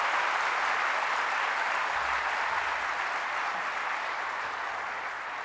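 Audience applause at a university convocation ceremony in India, a dense, steady wash of clapping from a large crowd, loud and continuous from start to finish with no voices standing out.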